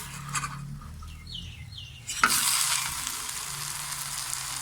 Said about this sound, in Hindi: इसे भी हम इधर की साइड को भी इस तरह घी लगा लेंगे और निचली वाली साइड पकने देंगे